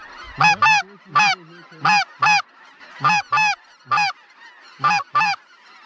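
Snow geese honk loudly and close overhead, in paired nasal calls repeating in a loose rhythm, with no other sound between.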